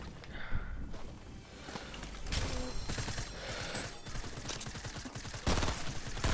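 Gunfire in Fortnite, a rapid burst of shots with clattering footsteps and mechanical clicks, moderately loud amid game noise.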